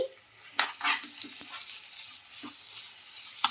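Ground chicken tipped into ginger paste frying in a pan, with soft sizzling and a few scraping, stirring clatters of a utensil against the pan, sparse and close.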